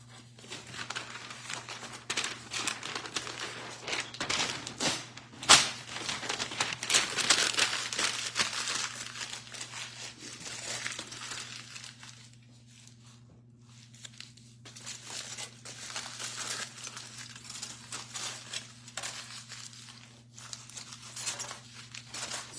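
Paper is crumpled and stuffed into a container, giving long stretches of crinkling and rustling with one sharp crunch, close and fairly loud. A quieter pause comes midway before the rustling picks up again over a steady low hum.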